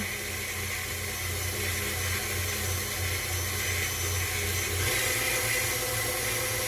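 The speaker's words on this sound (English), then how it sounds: "And we shall knead on low speed like a number 2" A stand mixer with a dough hook kneading soft milk bread dough on low speed, giving a steady motor hum and whir that runs unbroken and fairly loud, with a slight shift in tone partway through.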